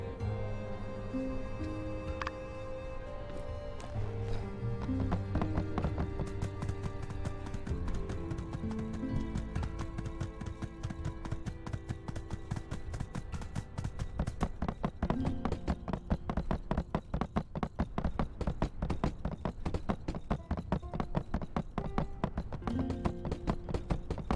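Steady clip-clop of hooves from a horse in the video game My Time at Sandrock plays alone for the whole stretch, with an occasional whinny over the rhythmic trotting.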